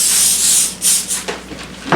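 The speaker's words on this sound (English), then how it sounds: "Cooking spray, put it on top." Cooking spray aerosol misted over parchment-covered homemade bread dough, a few loud close hissing bursts of varying length separated by brief pauses.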